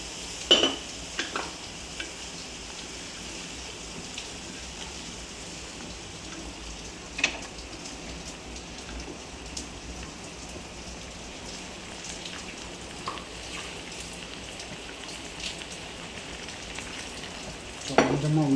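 A milk and maida mixture is poured into a pan of sizzling fish curry, giving a steady close hiss and crackle like light rain that runs throughout, with a few sharper pops.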